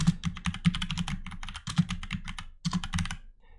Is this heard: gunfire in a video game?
no